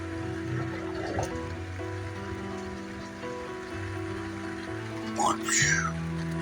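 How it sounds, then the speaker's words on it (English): Steady rain pattering on a tarp rigged beside a van during a rainy day off-grid, a continuous close wash of noise with a few brief louder bumps and faint voices toward the end. "One of those rainy van life days."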